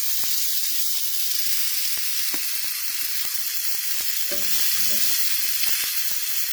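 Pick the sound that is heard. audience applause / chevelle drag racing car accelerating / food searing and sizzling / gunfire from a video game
food searing and sizzling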